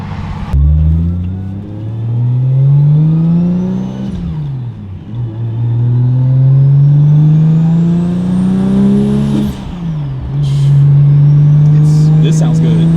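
An 800-horsepower Nissan Skyline R34 engine revs hard and accelerates through repeated rising pulls with brief dips at gear changes, loud and close, like an in-car ride-along.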